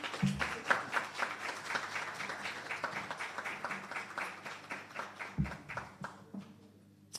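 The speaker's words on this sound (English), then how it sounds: "Clap her for me, man." Audience at a records department launch and off-boarding ceremony in Jamaica applauding for the Principal Director, dense sustained clapping at moderate distance that gradually fades toward the end.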